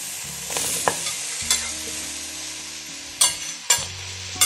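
Tempeh stir-fried in a pan, with a soft ongoing sizzle and several sharp clacks of a utensil scraping and stirring against the pan.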